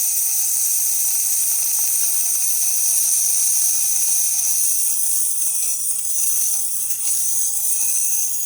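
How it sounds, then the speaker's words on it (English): A DeLonghi PrimaDonna Evo espresso machine's steam wand gives off a steady, bright hiss that runs close and unbroken from start to finish, without any talking. "let's test also the steamer"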